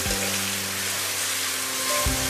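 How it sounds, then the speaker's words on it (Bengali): Salted chicken pieces fry gently in a pan for a Bengali chicken roast, giving a steady, close, unbroken sizzle that stays fairly loud throughout with no talking over it. "নরম করে ভাজবো আর একটু"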